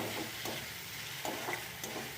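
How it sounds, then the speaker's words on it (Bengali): Spice paste for a fish curry sautés in a pan, a soft steady sizzle broken by a few scraping stirs at irregular intervals. "এদিকে আমার মশলাটা কষা হচ্ছে।"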